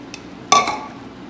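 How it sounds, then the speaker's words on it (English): A spoon clinks against a bowl while buttermilk is stirred into a flour and baking powder mixture for Irish soda bread: one sharp clatter followed by brief scraping, close and fairly quiet. "and stir that all together"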